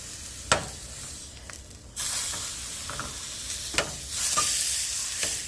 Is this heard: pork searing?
yes